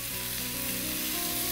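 Ground meat sizzles steadily in a hot pan, a continuous close frying hiss with no talk over it.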